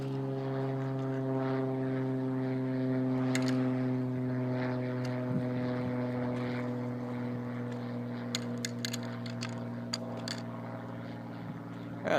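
Small propeller airplane flying near a little airport: a steady, droning engine hum with a sustained tone held throughout, moderately distant and fairly faint, with a few light clicks and no talk.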